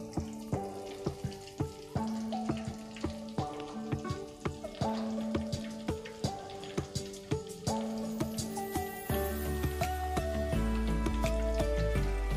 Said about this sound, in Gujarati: પહેલાં ગરમ એકદમ તેલ કરી લેવાનું